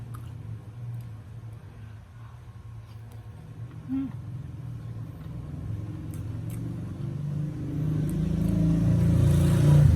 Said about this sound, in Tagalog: Dumadaan ditong tricycle.